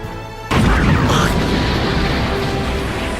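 An explosion in an anime fight as a small white ball bursts against an enemy: a sudden loud boom after a short quiet lead-in, followed by a sustained rumbling roar that slowly fades.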